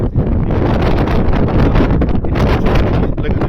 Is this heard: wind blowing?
yes